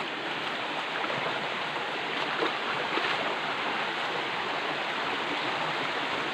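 A river flowing at the point where it splits into two channels gives a steady, full rushing wash of water, close and continuous throughout with no voices.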